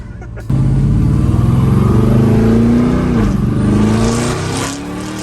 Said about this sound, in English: Just spinning the wheels.